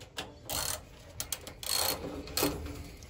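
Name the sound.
socket set ratchet removing bolts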